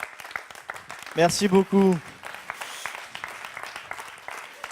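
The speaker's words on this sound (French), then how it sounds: "On l'applaudit très très fort." Applause from a seminar audience runs as a steady wash of clapping throughout, with a voice speaking clearly over it near the start.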